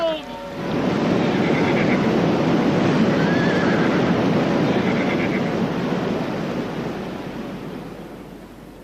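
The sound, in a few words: horses neighing amid flood waves, audiobook sound effect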